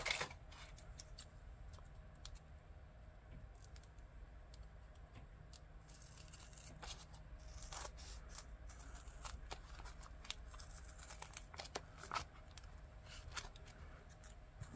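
Scissors snip through a tough Sterling Ink planner cover on a cutting mat, giving quiet, close, irregular clicks and crisp cuts with soft rustling between them.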